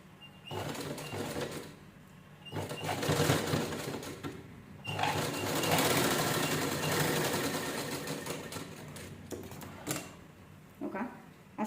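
A sewing machine stitches a zippered purse in bursts of fast mechanical whirring, several loud runs separated by short pauses, the final ones brief and choppy.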